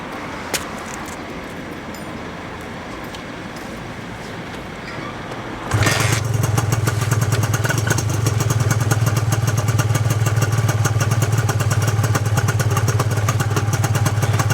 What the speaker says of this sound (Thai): มาเดี๋ยวมาฟังเสียงเครื่องเสียงเครื่อง นิ่มๆใสๆ นุ่มๆ เป็นยัง ไง ฟังครับ